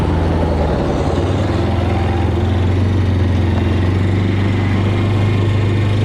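ATV engine running loud and close on grass, a steady droning motor held under throttle for the whole stretch with no voices over it.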